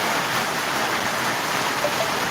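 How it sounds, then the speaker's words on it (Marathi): Heavy monsoon rain at the Balumama temple in Maharashtra, a steady, dense hiss of downpour with running water, continuous and loud with no voices. "अर्धा तास झाले जोरदार पाऊस चालू आहे"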